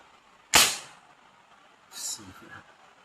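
An air rifle firing an 8mm steel ball with open sights and no scope, one sharp close shot followed by a fainter impact or rattle and some background voices.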